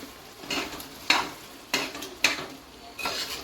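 A spoon stirs curd through chicken biryani in a pot, giving about six separate scraping, squelching strokes at an uneven pace over a faint simmer, close and fairly quiet.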